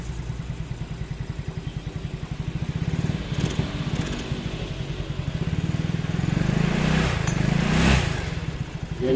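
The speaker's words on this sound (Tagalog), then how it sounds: "So, papainitin muna natin yung makina kasi dapat pag nag-tuning, dapat mainit yung makina." A Yamaha Mio Amore scooter engine with a stock carburetor idles and runs to warm up, a close, steady putter with a couple of brief throttle blips that rise and fall.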